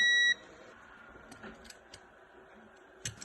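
A continuity tester gives one short, clear electronic beep on a repaired wire from a Clementoni T-rex toy, followed by faint ticks and handling sounds.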